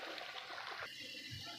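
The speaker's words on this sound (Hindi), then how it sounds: "ये देखिए अब इसके अंदर हम पानी ऐड करेंगे।" Water is poured into a pot of dhaba-style chicken and potato curry, making a faint, brief splashing trickle.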